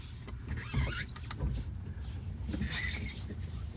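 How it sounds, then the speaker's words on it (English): Power windows on a 1965 Ford Mustang coupe whir as they roll up and down, a continuous motor whine with shifting pitch heard close inside the car over a low rumble. "Windows roll up and down, super nice too."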